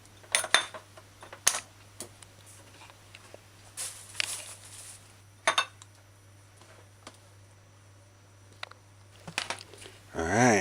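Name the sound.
knife cutting cho-cho into quarter cubes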